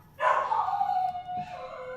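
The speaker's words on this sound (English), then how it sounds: "apologies for the dogs, because you will hear them" A single dog at home gives a short, faint, drawn-out whining yelp followed by a softer second note, heard alone.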